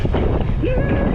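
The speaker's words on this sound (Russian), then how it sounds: "ветерок присутствует." Warm summer wind on the Crimean coast buffets the microphone in a loud, steady low rumble, with a brief faint tonal whistle partway through.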